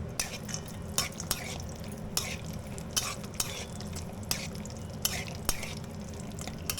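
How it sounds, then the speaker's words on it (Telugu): Something frying in ghee in a pan, a soft steady sizzle under repeated sharp clinks and scrapes of a spatula stirring at an uneven rhythm, close and moderately loud. "ముందుగా ఫ్రై చేసుకోవాలి."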